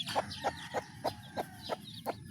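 Newly hatched pet chicks cheep in a quick run of seven or so bright, evenly spaced peeps, close and clear over a faint low hum.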